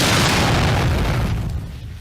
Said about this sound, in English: The silence was interrupted by an explosion, shattering the glass window of the bus.